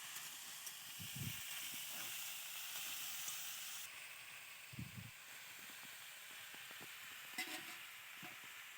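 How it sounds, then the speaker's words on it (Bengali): Potato, pumpkin and bitter gourd frying together in a pan give a faint, steady sizzling hiss, with a few soft low knocks from the pan along the way. "আলু কুমড়ো উচ্ছে এটা একসঙ্গে ভালো করে ভেজে নিতে হবে"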